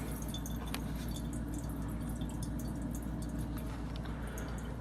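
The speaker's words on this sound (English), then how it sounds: "The water's draining." Water trickles and drips steadily through an Eshopps PF 300 aquarium overflow box, a continuous gurgling drain with occasional soft squishy bubbles, fairly close and quiet.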